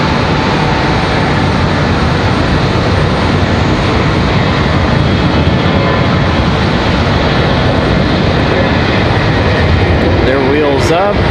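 An Airbus A321 jet takes off from the runway at Raleigh-Durham airport, a loud, continuous engine roar that fills the scene from start to finish.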